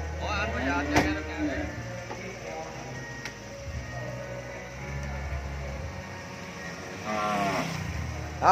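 Cattle at a cattle farm in Mỏ Cày Bắc, Vietnam, being loaded for truck delivery give two drawn-out moos, one near the start and one near the end, over low vehicle rumble and background noise.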